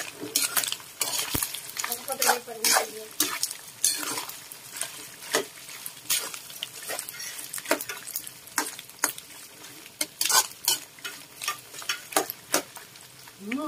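Pork fat being stirred as it renders in a hot pan for an Ilocano sweetened pork fat dish, with steady frying sizzle and repeated scraping and clinking of a utensil against the pan, close and alone.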